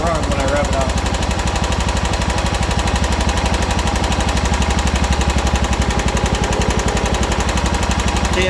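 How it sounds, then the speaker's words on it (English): A John Deere 240 lawn tractor engine runs loud and close with a rapid, steady chugging after a carburetor adjustment, a voice talking over it. "See how it runs when I rev it up."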